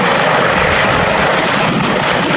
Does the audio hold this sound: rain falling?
no